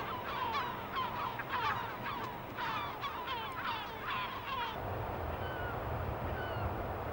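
Many birds call on an island home to over 40 recorded species, with bursts of honking, goose-like cries in overlapping flocks through the first few seconds, then quieter background calls under steady wind.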